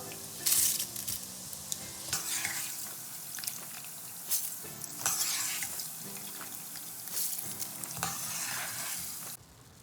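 Steady crackling sizzle of Bombay mixture snack deep frying in hot oil, with occasional stirring and clinks of a utensil, continuous and close.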